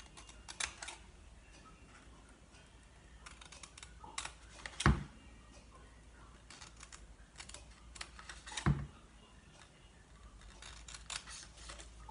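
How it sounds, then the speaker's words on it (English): Scissors snip along score lines on cardstock while making a small Valentine's gift box, giving a run of light, crisp clicks and cuts at close range with two sharper snips standing out, over a faint room hiss. "I'm going to cut up the score lines."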